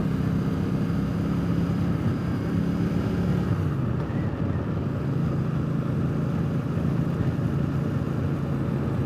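A Triumph Speedmaster motorcycle fitted with new official Triumph exhaust pipes drones steadily while riding, its low engine rumble heavily mixed with constant wind rush over the microphone.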